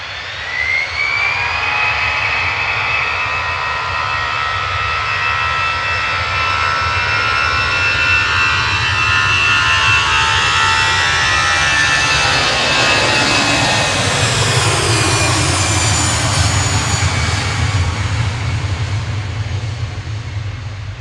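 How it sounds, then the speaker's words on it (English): An easyJet jet airliner departs Manchester Airport in a loud, sustained engine roar, with a rising whine and a sweeping tone as the aircraft passes close by and climbs away; no talking. "EasyJet GZWH with flight 2167 to Amsterdam, departing there."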